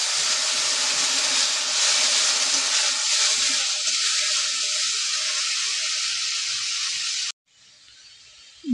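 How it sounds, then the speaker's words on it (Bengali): Tamarind water poured over taro flowers in a pot, a steady loud hissing, splashing pour that runs continuously and then cuts off abruptly, followed by a softer fizzing sizzle. "এবারে তেঁতুলগুলা জলটা কচুর ফুলের মধ্যে দিয়ে দিতে হবে।"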